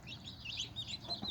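A Cemani chicken, a melanistic all-black breed, clucks in short repeated bursts close by, with faint low background rumble and no talk.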